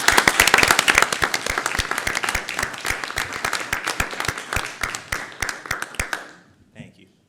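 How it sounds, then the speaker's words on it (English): A room at a city council meeting breaks into sustained applause, dense and fairly loud, with sharp claps standing out before it fades and stops. "join me in a round of applause for all of the wonderful women who lead this city"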